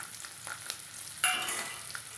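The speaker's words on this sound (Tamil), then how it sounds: "கடுகு பொரிஞ்சதும் நம்ம வெட்டி வச்சுக்கிற சின்ன வெங்காயத்தை வந்து சேர்த்துக்கலாங்க." Small onions go into hot oil with popped mustard seeds for a sambar, a soft crackle suddenly swelling into a louder sizzle as they hit the pan, with a few light stirring scrapes.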